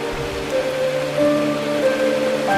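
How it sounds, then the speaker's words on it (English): Steady rain falling in a video game, a continuous soft hiss of drops under faint sustained musical tones, no talking. "This is the sound of rain."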